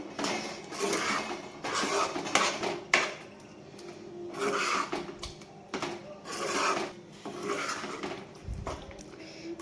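Tomato pickle mixture being stirred in a pan for Telugu-style tomato chutney, repeated scraping and knocking strokes of a spoon against the pan in an uneven rhythm, close and moderately loud.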